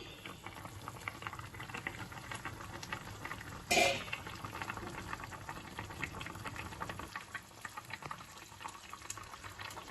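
Prawns simmer in a covered pot of malai curry, a steady close bubbling with a brief louder burst near the middle, otherwise even and continuous.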